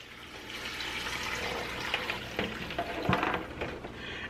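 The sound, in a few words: liquid poured into a pot for homemade turkey stock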